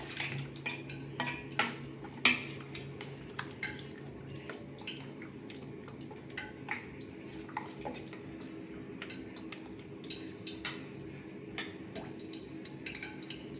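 Fish pieces being mixed with cornflour in a bowl for pakoras, heard as steady light clinks and scrapes of a spoon against the bowl, with soft squelchy stirring underneath.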